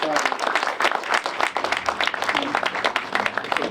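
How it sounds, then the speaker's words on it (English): Applause from an audience at a brewery press conference and ribbon cutting, dense and fairly loud clapping throughout, with some talk mixed in. "they deserve a big round of applause for all the work that they put"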